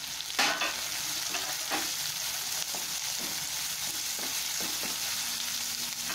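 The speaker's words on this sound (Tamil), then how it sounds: "இப்போ பூண்டு, இஞ்சி, பச்சை மிளகாய், சின்ன வெங்காயம் எல்லாத்தையுமே போட்டு ஒன்றா வதக்கணும்." Garlic, ginger, green chili and shallots sauté together in hot oil in a pan for fish gravy, a constant close hiss of frying broken by a few soft scrapes of stirring, with no talking.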